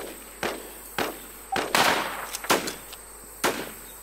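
Sharp VSS rifle shots in the Infestation video game, six separate cracks spaced irregularly about half a second apart, close and loud over a quiet background, no speech.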